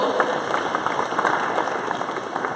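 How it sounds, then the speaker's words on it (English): Sustained, even applause from a morning audience at a Kansas City startup community meetup, with a faint electrical hum underneath and no talking. "Can we give them a round of applause?"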